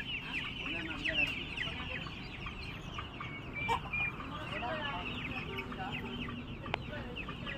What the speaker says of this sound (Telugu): ఇవి గిర్రాజా కోడి పిల్లలండి.